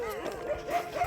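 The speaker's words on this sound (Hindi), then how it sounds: "कुछ कुत्ते भौंक रहे हैं मुझ पे" Dogs near a small roadside temple along a grassy riverside pilgrimage path give a brief cluster of yipping, whimpering barks, close and fairly loud.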